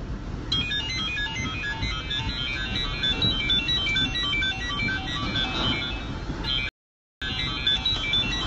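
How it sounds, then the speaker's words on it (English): A telephone rings with a repeated electronic ringtone during Hurricane Harvey in Texas, steady and close, with a brief silent gap near the end and a faint rumble of storm noise underneath. "We're not going to answer the phone right now."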